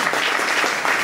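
Audience applause at a political meeting presenting a centre-left civic list in Montefano, a brief, dense burst of clapping from a crowd indoors.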